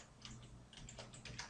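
Brief run of soft keyboard taps as a shell command is typed into a Linux terminal, close and quiet over a low steady hum.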